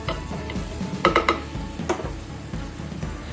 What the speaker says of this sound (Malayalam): നമുക്ക് കുറച്ച് കറിവേപ്പില ഇട്ടിട്ട് നല്ലോണം ഇളക്കി കൊടുക്കാം.